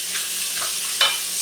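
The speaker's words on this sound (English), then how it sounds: "Y'all hear that sizzle?" Steady high-pitched sizzling of food frying in a non-stick pan, with soft stirring scrapes and a brief louder crackle near the end.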